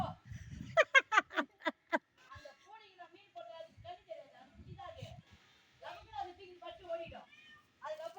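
Several cats meow in quick, loud, close bursts, then keep mewing more softly and intermittently while people talk nearby.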